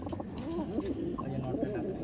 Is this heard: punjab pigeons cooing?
yes